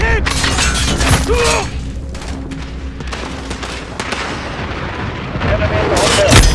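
A grenade explodes amid gunfire in Call of Duty: Modern Warfare, with loud close blasts and sharp shattering cracks in quick succession, followed by ongoing rumbling combat and a voice speaking over the action.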